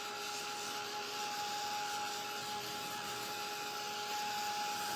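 A heat tool runs steadily to dry paint on a canvas sign, producing a constant loud whirring hiss with a faint tonal whine that holds for the whole stretch, with no talk.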